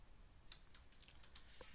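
A handful of quick, faint key taps on a computer keyboard, irregular clicks spaced over under two seconds in a quiet room.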